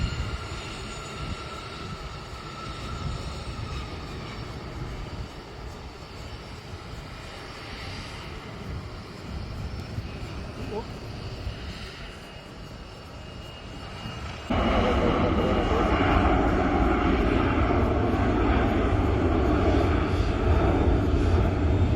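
An Embraer executive jet takes off from runway 28, a steady roar of jet engines held at a distance that swells suddenly louder partway through and stays strong.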